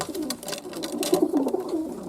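Young racing pigeons coo softly in a loft, a run of close, low warbling calls over a rustling background.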